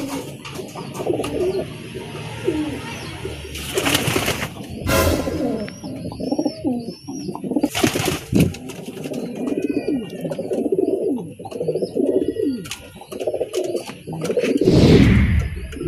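Racing pigeons coo repeatedly at a loft after a derby race, soft overlapping coos with occasional higher bird chirps and brief rustling bursts, steady and close throughout.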